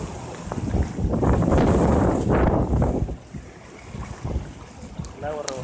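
Heavy storm rain in Cancún, with water overflowing the sidewalks, comes across as a loud, steady wash mixed with strong wind buffeting the microphone, easing slightly toward the end.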